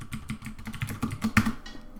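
Rapid clicking of computer keyboard keys while code is typed, an uneven burst of close, crisp keystrokes lasting about two seconds with no talking.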